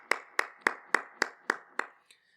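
A congregation claps in unison at a church worship gathering, eight sharp, evenly spaced claps in a steady rhythm, fairly close, the last one softer, then silence.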